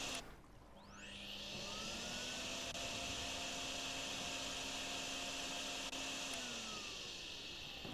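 A vacuum hose whirs to life in a drain-cleaning simulator game and settles into a steady, loud droning roar that holds almost unbroken for several seconds, with no voices over it.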